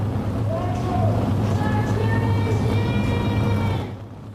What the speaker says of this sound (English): The engines have fired here on the front straightaway.